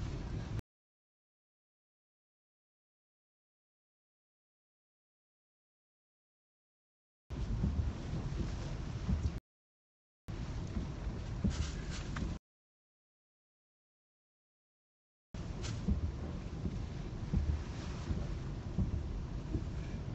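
Hurricane wind blasting and roaring in loud, rough bursts, cutting in and out between stretches of dead silence, with heavy low rumble.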